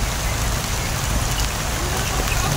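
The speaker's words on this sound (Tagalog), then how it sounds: "Patay, lumakas yung ulan." Heavy rain in a horror survival video game, a dense, constant downpour hiss filling the whole short stretch at close, loud level.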